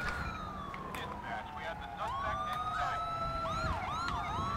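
A Los Santos EMS ambulance siren in GTA 5 wails continuously nearby, its pitch sweeping up and down and switching to faster yelps, over a constant rumble of engine and road noise.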